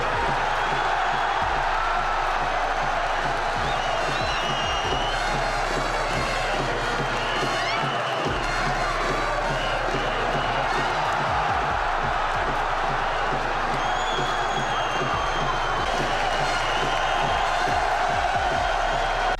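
Arena crowd at a boxing event cheering a fighter's reception, a dense continuous roar of cheers, whoops and applause at steady high volume throughout, with scattered thumps underneath.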